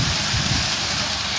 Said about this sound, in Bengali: অনেক জোরে বৃষ্টি পড়ছে, এখন খুব সাউন্ড আসছে